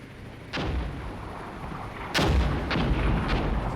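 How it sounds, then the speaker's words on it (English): Artillery fire in the Cold War combat game Armored Brigade 2: two heavy booming blasts, the second louder and followed by rumbling secondary impacts, set against a steady battlefield background. "Artillery should fire."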